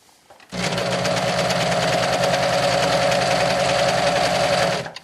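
A sewing machine stitches a tank top seam in one unbroken run, a loud rapid mechanical whir that starts abruptly, holds steady for about four seconds and then stops.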